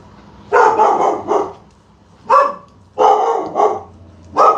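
Several dogs bark loudly and close by in a kitchen, with four clustered bursts of barking separated by short pauses.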